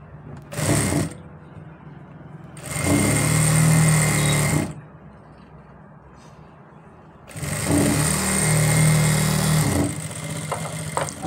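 Sewing machine stitching the hem of a ladies' pant, running in three separate bursts of steady mechanical whirring with quiet pauses between them, close and fairly loud.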